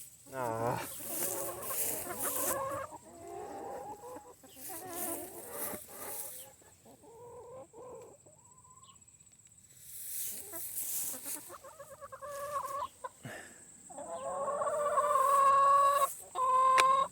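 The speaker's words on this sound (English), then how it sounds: "Now chickens are curious." Chickens cluck and call near a small manure spreader after sunflower seeds are tossed in, soft scattered clucks with some handling noise, then louder clucking near the end while someone talks intermittently.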